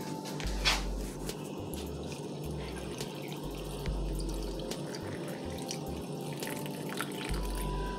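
Vinegar splashes and trickles steadily, like a stream from a jar, over sliced red onion, with faint clinks and drips over a low background hum; no one speaks.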